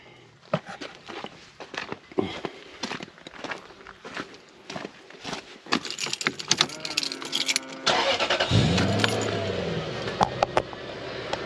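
Lexus LS430 car with a newly fitted ECU starting up: after a stretch of clattering handling noises and footsteps, the engine cranks and catches, settling into a loud, steady idle close by.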